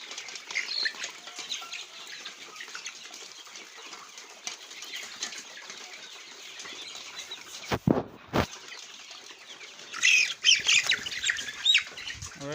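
A farm chicken being caught while feeding squawks loudly in sharp bursts, with wings flapping and scuffling close by, quieter rustling between the outcries.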